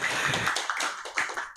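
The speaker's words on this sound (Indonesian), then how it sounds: "mudah-mudahan kita kasih tepuk tangan dulu buat TNI dan Polri yang bertugas di sana" Audience applause for TNI and Polri at an Indonesian religious talk, a short burst of clapping that begins thick and quickly thins to a few scattered claps.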